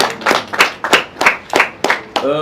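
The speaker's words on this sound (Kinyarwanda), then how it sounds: "Umukomera amashyi." Close, loud hand clapping from an audience, in an even rhythm of about eight sharp claps over two seconds, with no voices over it.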